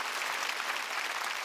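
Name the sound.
church congregation applauding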